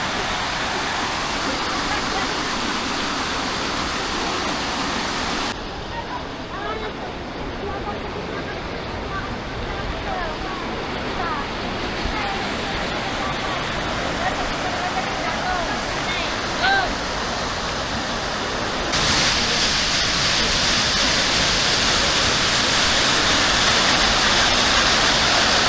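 Water from a waterfall pours down in a loud, steady rushing roar close by. It drops in level for a stretch and then swells back to full strength.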